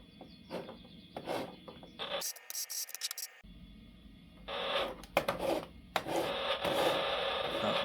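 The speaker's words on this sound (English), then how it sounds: "That's the sound of some kind of rocket launcher." A rocket launcher firing in a DOS 3D game through a 386 PC speaker, heard as scratchy, buzzy noise bursts with a sharp high crackling shot in the middle, followed by more rough static-like blasts.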